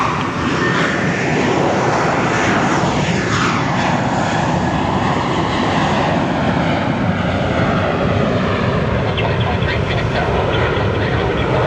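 A United airliner passing at Phoenix Sky Harbor airport gives a loud, sustained engine roar with a slowly sweeping, shifting tone throughout, steady and close with no break.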